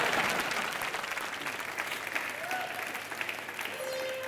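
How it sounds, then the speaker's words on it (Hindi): Studio audience applauding on an Indian comedy talk show, a steady dense clatter of clapping that fills the whole stretch, with brief tonal whistles or cheers rising partway through. "तुम ताली दो मुझे"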